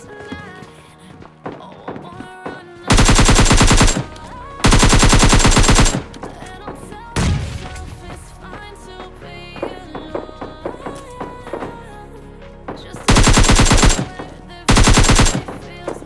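Loud bursts of automatic gunfire in the mobile shooter PUBG Lite, two paired volleys early and two more later, with game sounds and background music playing between them.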